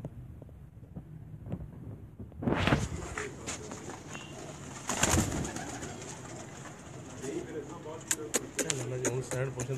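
Soft cooing from a lone flying pigeon on a rooftop under gusting wind noise outdoors, with a few louder flutters and a faint voice in the background.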